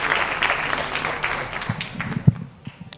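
Audience applause at a women's conclave interview session, a brief burst of mid-level clapping from a seated crowd, uneven and thinning within three seconds.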